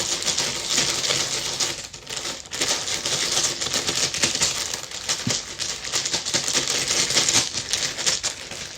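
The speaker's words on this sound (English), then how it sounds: "I want to use my dice, so I'm going to shake them up in the bag" Dice shaken in a bag: continuous dense rattling and clicking, steady and close for several seconds with no talk.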